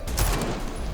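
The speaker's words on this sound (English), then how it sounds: "the gun already does the burst thing" A short rapid burst from a gun in a video game, several crisp shots fired close together at close range and fairly loud, with no talking.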